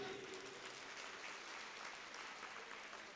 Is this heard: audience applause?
yes